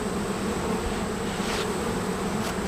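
Honeybees buzzing steadily and densely during a honey harvest as they are driven out of a hive super, a continuous close swarm hum with no talk.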